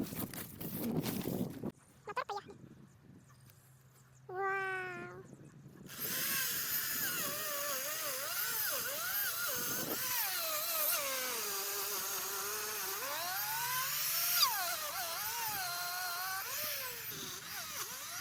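A power tool cuts reinforcement grooves into aerated concrete blocks on a house build, a close, continuous whining, rasping grind whose pitch rises and falls with the load, preceded by brief motor revving.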